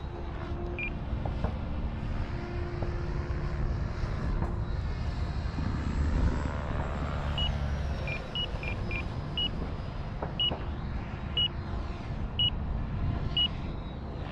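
An E-flite F-16 Thunderbird RC jet with 6S electric ducted-fan power sweeps past in a low pass, its steady loud whine swelling and shifting pitch as it goes by, with a few faint beeps along the way.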